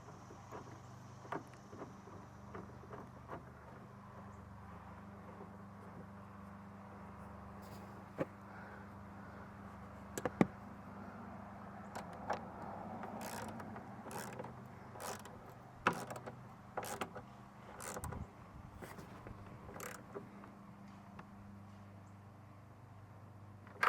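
A torque wrench ratchets and clicks while tightening the side view mirror nut on a Pontiac Grand Prix: a run of sharp, close mechanical clicks and creaks spread unevenly over a quiet, steady background.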